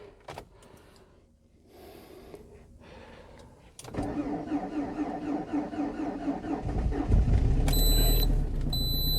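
A Lada Vesta with a 1.6 engine cranks in minus 30 degree cold, with some quiet clicks and rustles first, then a sudden loud start that builds into a rough, rising engine roar close by.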